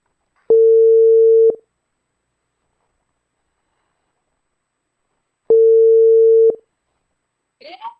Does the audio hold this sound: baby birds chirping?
no